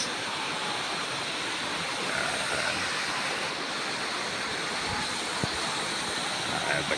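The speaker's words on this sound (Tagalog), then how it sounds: "mga tubig na dumadaloy" Water flows at Bolinao Falls in a constant rushing wash, moderately loud and unbroken, with faint voices and a few small knocks in the background.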